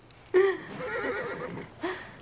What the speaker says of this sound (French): fatigue pas ton cheval, Nicole.